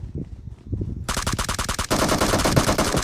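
An M249 machine gun fires in PUBG Mobile: rapid continuous bursts of loud close automatic gunfire, growing denser and more sustained after the first second, with no speech.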